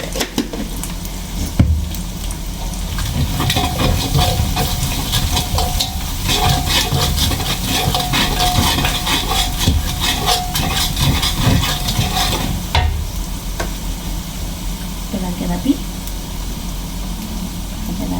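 Sambal being stirred and fried in a hot pan for nasi goreng, a continuous loud sizzle with scraping stir strokes that drops off sharply near the end.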